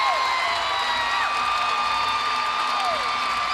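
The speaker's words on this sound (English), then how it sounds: "the crowd is going wild" A college gymnastics arena crowd at a Florida vs Georgia meet cheers wildly after a perfect 10, a loud, sustained wash of whoops and applause with whistles cutting through.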